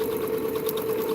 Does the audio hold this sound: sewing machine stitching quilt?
yes